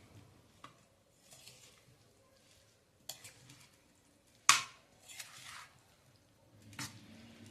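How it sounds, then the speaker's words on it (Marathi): A spicy lemon pickle mixture is stirred in a bowl, producing intermittent wet squelching scrapes and one sharp clatter of the spoon against the container, faint and close with quiet pauses between strokes. "आता हे मी व्यवस्थित मिक्स करणार आहे आणि मग बरणीत भरून ठेवणार आहे"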